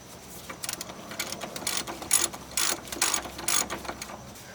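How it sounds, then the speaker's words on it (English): A ratchet clicks in quick bursts while tightening a control arm bolt on a Ford Ranger 4x4, close and fairly loud, several rapid runs of clicks in a row without any talk. "So we'll just tighten that back up."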